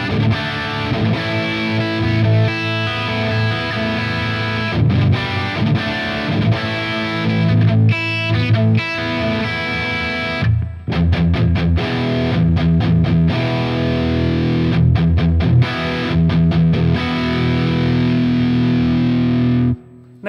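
Heavily distorted electric guitar played through an EVH 5150III Stealth amp with the gain maxed, chugging riffs with abrupt stops and sustained saturated chords, loud and alone.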